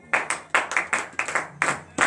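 A church congregation at a Saturday morning prayer in Comè, Benin claps in bursts, several rhythmic hand claps in quick groups of overlapping hands, close and moderately loud, with no talking.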